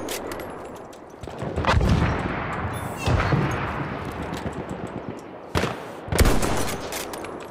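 Machine gun fire in Battlefield 1 comes in loud rapid bursts with pauses between them, backed by a steady rumble of battle noise, with no speech.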